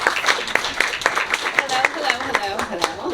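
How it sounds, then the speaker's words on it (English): Scattered claps from a small audience at a networking social, welcoming someone speaker; the clapping is sparse and uneven, with background chatter and voices running underneath throughout. "Let's give her a round of applause."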